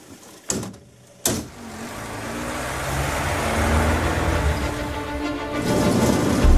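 A car drives along a road on a remote stretch of Bulgaria's Black Sea coast, its steady engine and road rumble building gradually after a couple of sharp door-like thumps at the start.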